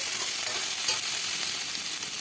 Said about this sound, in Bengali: দিয়ে আবারও নেড়ে চেড়ে নেব।